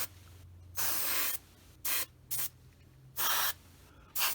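An airbrush sprays paint onto a Tamiya 1/48 F4F model plane in several sharp hissing bursts, one long and the rest short, separated by near-silence, close and clear.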